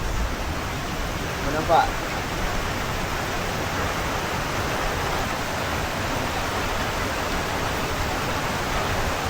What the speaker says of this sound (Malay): Hari kedua guys, cuaca hujan lagi.